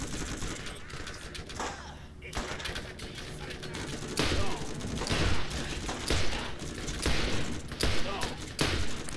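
Bursts of gunfire from enemies shooting at the player in the video game Borderlands, dense rapid volleys and single cracks clattering over a busy battle din, loud and continuous throughout.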